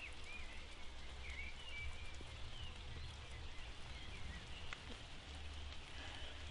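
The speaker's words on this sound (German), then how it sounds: "Warum nochmal müssen wir im Regen sitzen?" Steady rain falls in an outdoor setting, a dense continuous patter of drops on surfaces at moderate, even loudness, with faint bird calls chirping through it and no one speaking.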